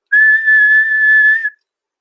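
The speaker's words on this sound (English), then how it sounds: "There was a sharp blast of a whistle" A single sharp, steady referee-style whistle blast starts a school relay race between classes on a field, lasting about a second and a half and then cutting off into silence.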